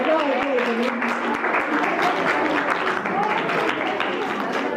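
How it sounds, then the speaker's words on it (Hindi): A crowd at a school farewell party gives loud, continuous applause that fills the whole stretch, with voices and cheering mixed into the dense clapping. "जोरदार तालियां।"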